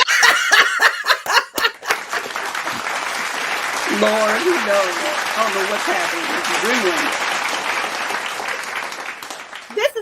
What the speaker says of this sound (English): Can we get a hand clap for that one?